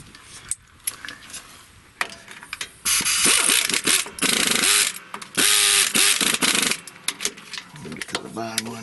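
A pneumatic impact wrench snugs starter bolts on a John Deere 5055E tractor, firing several loud rattling bursts of a second or so each in the middle of the clip, with quieter clanks and tool handling before and after.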